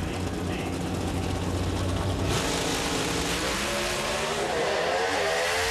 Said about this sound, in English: Gets the advantage by 200s off the line. Should be enough with that Victor Cagnazzi horsepower